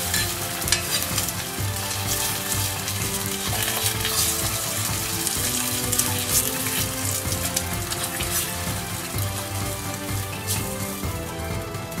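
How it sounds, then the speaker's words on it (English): A fried egg for Hiroshima-style okonomiyaki sizzles in a pan with its yolk broken, a close, continuous crackling hiss of frying that stays even throughout. "Make fried egg and break the egg yolk."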